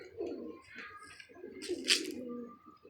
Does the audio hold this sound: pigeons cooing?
yes